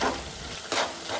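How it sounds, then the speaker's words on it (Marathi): Khoa being stirred into hot carrots for gajar halwa in a pan, a soft scraping stir with faint frying sizzle and a brighter scrape near the end, close and alone. "गाजरात जो आपण आता खवा टाकला आहे तो चांगल्या प्रकारे मिक्स करून घ्यायचा गाजरमध्ये"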